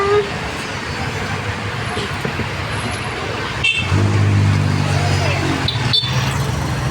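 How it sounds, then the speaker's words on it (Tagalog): Road traffic with cars and buses passing close by, a steady engine rumble with a heavy vehicle idling and droning low, plus a brief hiss of air brakes; voices speak now and then over the noise. "Traffic."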